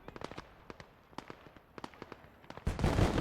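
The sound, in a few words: MG42 belt-fed machine gun firing, Gates of Hell video game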